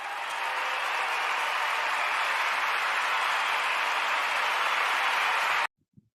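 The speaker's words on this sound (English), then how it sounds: "Can we get a round of applause?" A loud, dense round of applause from a crowd holds at full strength for several seconds, then cuts off abruptly into near silence.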